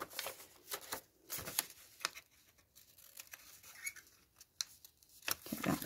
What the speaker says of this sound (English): Cut the corner bit off.